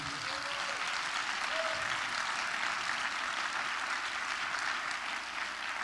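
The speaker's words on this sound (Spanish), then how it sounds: "¿Por qué no le das un aplauso al Señor?" A church congregation gathered in a theater gives applause to the Lord, a dense, even roar of clapping heard somewhat distant and faint, sustained for several seconds without speech on top.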